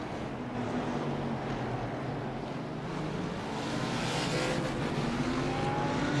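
GT3 race cars, Mercedes and Audi machines running close together in a Barber circuit race in the iRacing sim, give a steady, continuous engine drone with rising and falling pitch that holds loud through the whole stretch.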